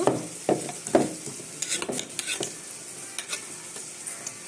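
Garlic chili powder, cumin and salt stir and fry in a hot pan, with a steady close sizzle under repeated scraping strokes of a spoon, louder at first and then settling into lighter intermittent stirring.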